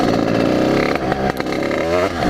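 A 50cc motorcycle revving hard during wheelie practice, loud and close, the engine note holding high then dipping briefly and climbing again, with some rattling clatter and no talk.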